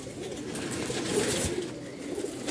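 Soft, low cooing of Rajshahi Giribaz pigeons murmurs steadily in the background, blended with faint ambient noise and a few brief rustles.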